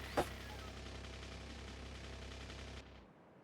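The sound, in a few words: cannon firing in a video game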